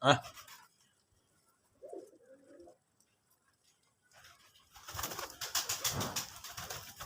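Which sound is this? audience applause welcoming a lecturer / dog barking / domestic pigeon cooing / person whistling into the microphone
domestic pigeon cooing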